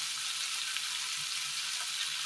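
Crushed ginger hits a frying peanut curry base and sizzles in hot oil, a steady, close crackling hiss with no voices.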